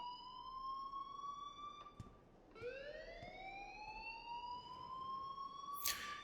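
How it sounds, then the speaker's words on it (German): An electronic alarm wails in the video game Life is Strange, with steady rising and falling tones that dip briefly and sweep up again, loud and alone with no voices. "please turn off that alarm since that's your job"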